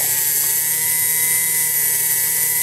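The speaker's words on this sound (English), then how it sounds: "I got a little round carbide cutter in here" A rotary tool fitted with a small round carbide cutter grinds away during work on a Cremina espresso machine, a loud, steady, high-pitched whine that holds unbroken throughout with no voices.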